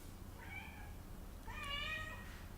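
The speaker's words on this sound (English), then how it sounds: "That's the cat, always says hello when he comes" A pet cat meows twice indoors, a short call followed by a longer, louder one, both faint over a low steady background hum.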